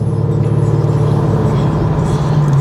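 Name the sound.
Infiniti Q50S VR30 engine and exhaust while driving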